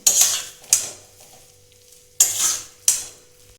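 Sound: stirring potato curry with coriander leaves in a pan

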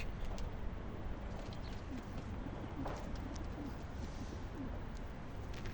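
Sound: birds, pigeons cooing

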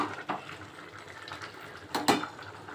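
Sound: mixing biryani rice in pot and covering it with lid

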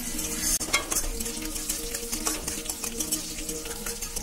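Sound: green chillies frying and crackling in oil

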